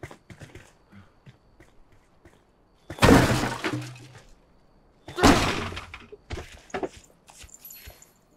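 Objects smashed in the Enshrouded survival game: two loud crashing breaks with shattering debris, followed by smaller clattering knocks and thuds against a quiet background.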